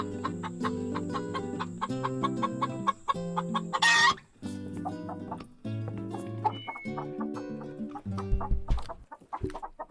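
A flock of chickens clucks in continuous overlapping calls, fairly close and busy, with a few louder squawks breaking through.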